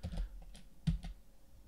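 Several quick, light keystrokes on a computer keyboard click close by in a short irregular burst.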